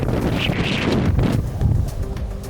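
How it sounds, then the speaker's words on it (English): Strong wind at Iceland's Breiðamerkurjökull glacier batters the microphone with loud, rumbling buffeting gusts that surge and roar continuously. "Oh wow, this wind is insane."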